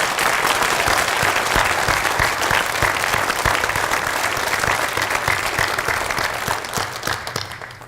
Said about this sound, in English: Let's give them one final round of applause.